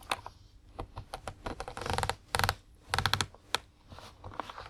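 Close, dry plastic taps and clicks on a Steam Controller, irregular bursts of rapid tapping that swell into dense clusters and thin out again, alone with no voices.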